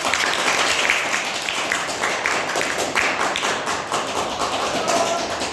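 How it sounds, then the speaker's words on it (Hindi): A classroom of students clapping together, a dense steady patter of many hands that carries on evenly from start to finish with no voices over it. "ठीक है, तालियां बजाओ उसके लिए।"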